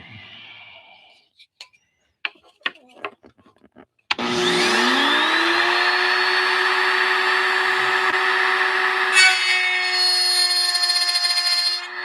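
A power tool spins up and cuts wood for motor mounts, its motor rising into a loud, steady whine with sustained tonal harmonics after a few light knocks and clicks, close and continuous to the end.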